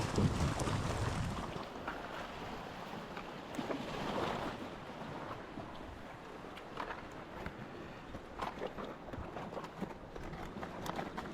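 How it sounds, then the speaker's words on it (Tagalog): Sea waves wash steadily against a Philippine shoreline during shorecasting, a broad continuous rush under gusty wind buffeting the microphone, with no voices. "Tama lang yung alon"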